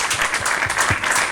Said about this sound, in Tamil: நல்ல கரங்களை தட்டுங்க.